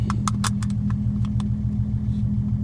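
A Datsun 280Z engine idles dangerously low with a steady, uneven low rumble, while a few faint light clicks and rattles come in over the first part.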